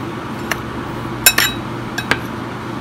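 Champorado being stirred in a pot, with a few light, scattered clinks and taps of a utensil against the pot over a low background hum, close and fairly quiet.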